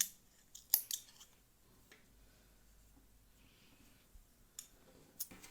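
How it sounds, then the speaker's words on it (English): Scissors snip yarn beside a crochet project. A few quiet, crisp clicks and cuts come close up, separated by near silence. "and cut the yarn from here."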